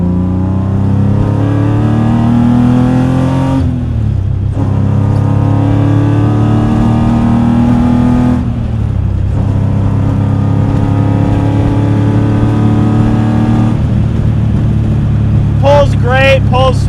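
BMW E30 fitted with an S50B30 inline-six engine pulls hard in third gear, its loud, steady engine note climbing in pitch twice, with gear changes between the rises.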